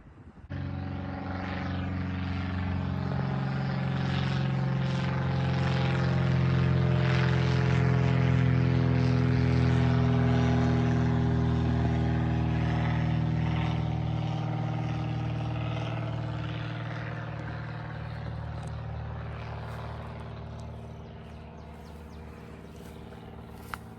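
A propeller plane passes over an outdoor campsite at dusk, its droning engine swelling to a peak midway and slowly fading, steady and unaccompanied by talk.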